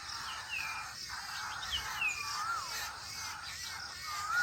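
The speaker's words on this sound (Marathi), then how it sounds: "पक्ष्यांचा आवाज ऐकत जरा वेळ मी उन्हात बसली होती" Several birds call outdoors, with scattered chirps and rising whistles, fairly faint against a quiet background hum.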